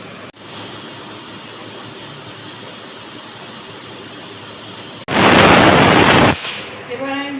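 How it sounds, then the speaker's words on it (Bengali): A pressure cooker full of goat leg broth vents loudly, a steady rushing hiss that cuts off, then bursts into a louder, harsher blast of steam for over a second before fading, with talking over part of it. "গ্যাসটা এখন কমিয়ে দেবো আস্তে আস্তে সিটিটা পড়বে"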